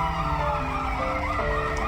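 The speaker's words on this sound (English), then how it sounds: "I think we should head to the ambulance now" An ambulance siren wails continuously in a video game scene, its rising and falling tone steady and fairly loud against a dense electronic backdrop.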